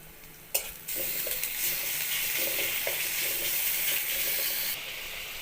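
Ginger, garlic and green chilli paste with cumin paste and turmeric drop onto onions fried about two minutes for a drumstick curry, setting off a sharp burst and then a steady, close sizzle that eases near the end.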